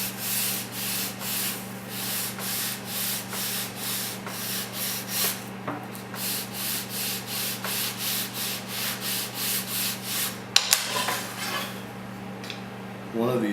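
Steady back-and-forth rubbing as guitar braces for a 12-string are sanded on sandpaper taped to a granite slab, close and rhythmic, with a low background hum and a brief clatter near the end.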